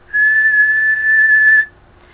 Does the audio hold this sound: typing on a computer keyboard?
no